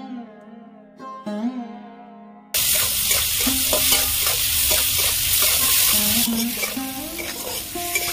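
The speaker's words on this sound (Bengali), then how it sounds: "তেল গরম হয়ে গেছে, চিংড়ি মাছগুলো ভেজে নেব" Prawns go into hot oil in a kadai after a few quiet ringing taps, and a loud sizzle erupts and holds steady while a utensil scrapes and clinks in a regular stirring rhythm.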